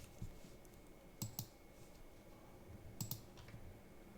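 Scattered keystrokes on a computer keyboard during coding, a few isolated clicks and short bursts of typing at close range in an otherwise quiet room.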